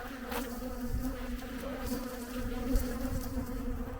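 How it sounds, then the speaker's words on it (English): A dense, agitated buzz of many bees swarming close by, a steady loud drone with individual insects whining past. "This is how to have bees really upset at you"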